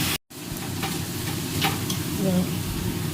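Chola shak (chickpea greens) fry in a pan with a continuous soft sizzle, while a utensil scrapes and stirs in scattered strokes, close by and fairly quiet after a brief gap at the start.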